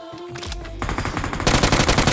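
Rapid machine gun fire in the mobile shooter BGMI (PUBG Mobile), a dense stream of sharp shots that grows louder and heavier toward the end of a short burst, with no talk.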